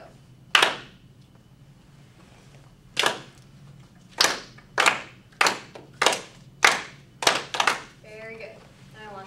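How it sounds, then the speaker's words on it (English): Half of a school class claps together on cue, starting with one lone clap, then a pause, then a run of sharp group claps in an irregular rhythm in a classroom, each slightly ragged as many hands strike at once. "I want just this half of the class to clap number 1 together."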